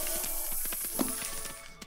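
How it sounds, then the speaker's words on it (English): A hissing spray in the ant colony game Empires of the Undergrowth, a soft steady airy hiss with faint scattered clicks and a small burst about midway, moderately quiet and alone. "So that spray like confuses them"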